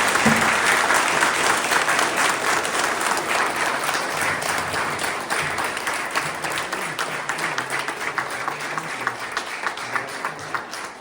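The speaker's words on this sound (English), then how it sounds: "can we give a big round of applause to the library and our candidates." Big round of applause from the audience at a League of Women Voters candidate forum held in a library room, sustained dense clapping that gradually thins into scattered individual claps over eleven seconds.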